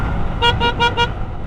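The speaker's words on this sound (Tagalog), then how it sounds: "Ang pangit ng busina." A motorcycle horn gives four quick, nasal toots in an even rhythm, loud and close, over a low engine rumble.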